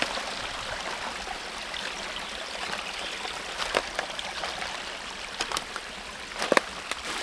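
A mountain stream rushes continuously as it is channelled by a rock into a wooden intake box for a micro hydro system, a steady close watery hiss with a few brief splashes and drips standing out near the end.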